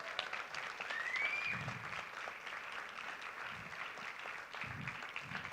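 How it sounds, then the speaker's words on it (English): An audience at a Black History Month opening ceremony applauds student leaders, a steady wash of clapping at moderate level with a few whoops, lasting throughout. "So can we give another round of applause for our student leaders?"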